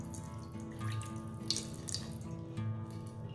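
About a cup of water poured into a baking dish already holding plenty of oil, a steady close running-water splash lasting a few seconds with no talk.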